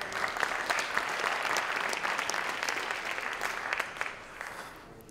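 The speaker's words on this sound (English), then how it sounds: "I think the applause was for you" An audience at an upper school recognition ceremony claps in a steady burst of applause for about five seconds, then it thins and fades toward the end.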